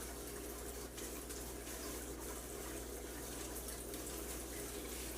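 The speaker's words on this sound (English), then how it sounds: "Rinse it off." Running water rinsing a scrubbed kitchen item, a steady even hiss of tap water over the whole stretch, fairly faint and unbroken, with no talking.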